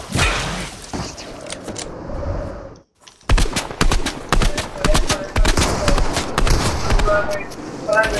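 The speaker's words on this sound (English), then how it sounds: "Stop shooting down!" Rapid gunfire in the Fortnite video game crackles as a dense string of sharp, closely spaced shots, broken by a brief silence near the middle, with voices talking over the firing.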